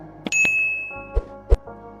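A bright single bell ding rings out clearly, followed by a couple of soft thuds and clicks, isolated against a quiet background.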